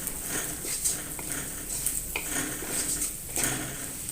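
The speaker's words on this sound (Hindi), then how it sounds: "सारी चीज़ों को अच्छे से मिक्स कर लेंगे" A spoon stirs red chilli powder, garam masala and salt together in a bowl. Soft, steady scraping and clinking come from close by, with light metallic taps scattered throughout.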